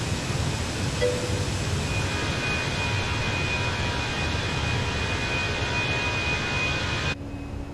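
Airplane engine in a flight simulator game: a steady, loud broadband jet roar with a thin high whine, continuous for about seven seconds before it drops abruptly to a quieter hum.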